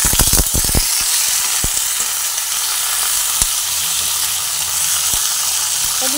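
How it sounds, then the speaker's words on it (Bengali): Broad beans fry in hot oil with turmeric, giving a loud, continuous close-up sizzle broken by a few sharp clicks of stirring. "আমি এবারে শিমগুলোকে তেলের মধ্যে দিয়ে ভেজে নিচ্ছি।"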